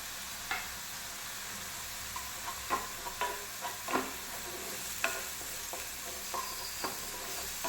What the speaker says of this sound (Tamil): பச்சை வாசனை போகிற வரைக்கும் நம்ம இதை கொஞ்சம் இப்படி பரட்டி விட்டுக்கிட்டே இருக்கணுங்க